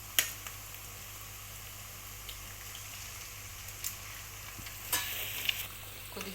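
Eggs frying in a pan for egg rice, a soft steady sizzle with occasional scraping clicks of stirring, faint and close.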